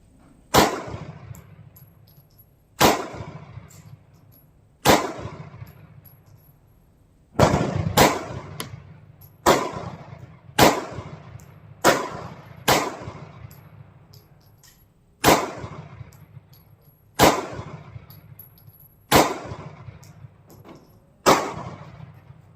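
Sig Sauer P365 pistol, uncleaned after fifty rounds, firing about fourteen loud, sharp shots with ringing decay, in clusters and single shots with uneven gaps of one to two seconds.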